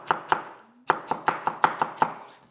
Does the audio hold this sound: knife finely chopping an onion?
yes